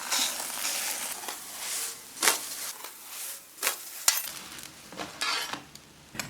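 Rolled flatbread dough laid into a lightly oiled flat pan for a Shaanbei-style sauce-brushed pancake, giving a steady close hiss of frying with repeated sharper sizzling bursts and scraping touches, no talk.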